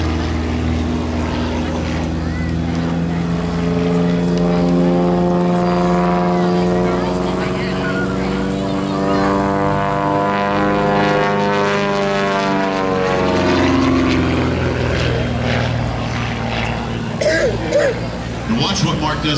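A restored propeller-driven warplane climbs vertical at an airshow, its engine droning loud and close as the pitch sweeps and shifts through the pull-up, with a throat clear or cough heard over it.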